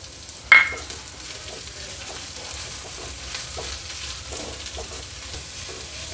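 Onion with curry leaves frying in a pan, a sharp clack of the spoon at the start, then a soft, steady sizzle with light stirring scrapes continuing alone.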